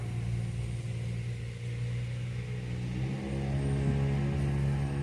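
Steady traffic on a busy suburban street during the morning commute, loud continuous engine rumble with low droning tones as noisy cars, some expensive and some run-down, pass close by without pause.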